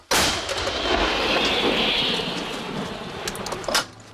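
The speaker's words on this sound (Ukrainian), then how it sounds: "Гармата постріл." One loud artillery cannon blast erupts, then a long rolling rumble echoes and slowly fades.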